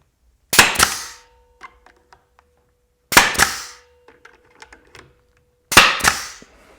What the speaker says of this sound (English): Nail gun, and off we go.